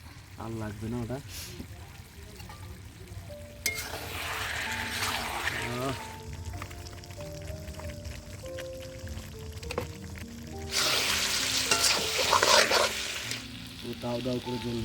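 Large pieces of meat fry in a pot over a rooftop wood fire with a steady sizzle, occasional stirring scrapes and bursts of louder hissing, while a voice talks over it.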